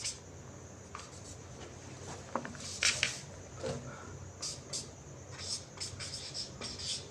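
Chalk or marker scratches and taps across a board as a maths formula is written out, in short irregular strokes heard close, with no talk.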